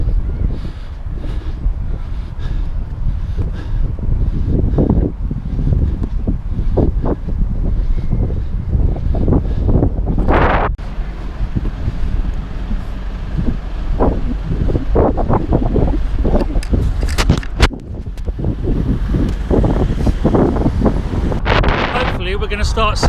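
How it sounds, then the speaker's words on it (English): Strong gusts buffet a microphone on a riverside walk near Millennium Bridge, producing loud, continuous low rumbling and thumping that dominates throughout, with a brief lull partway. "It's quite windy"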